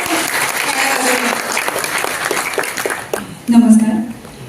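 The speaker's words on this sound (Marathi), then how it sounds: "सायली, टाळ्या झाल्या पाहिजेत ना. बराच वेळ लागतो टाळ्या वाजवण्यात." Audience applause at a grand trailer launch event, a dense, loud wash of clapping for about three seconds, then fading as a voice begins speaking over the tail end.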